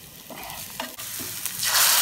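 Puree made from raw tomatoes ground in a mixer hits a hot pan for a tawa pizza, giving close, steady sizzling with stirring scrapes that swell louder toward the end.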